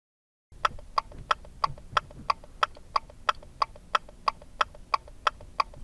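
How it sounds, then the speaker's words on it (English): A car's turn signal blinker ticks in a steady, even rhythm, about three clicks per second, close and crisp over a faint low rumble, with no talking. "I'm going to go listen to the blinker in my car."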